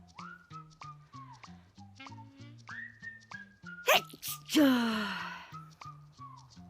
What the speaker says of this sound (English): I'll just start sneezing.